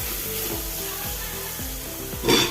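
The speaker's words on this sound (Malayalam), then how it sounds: "ഇനി അടുപ്പത്ത് 4 മുളക് അരിഞ്ഞത് ചേർത്ത് കൊടുക്കുക." Four chopped, mildly hot green chillies are added to a hot pan while cooking a vegetable paneer pulao, giving a steady close sizzle with scraping stirs and a brief louder hiss near the end.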